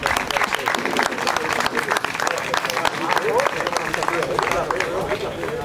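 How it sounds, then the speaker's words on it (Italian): Applause from a crowd at an outdoor inaugural event with a town band and majorettes, dense steady clapping running throughout at moderate volume, with voices mixed into the wash. "Con grandi applausi per favore"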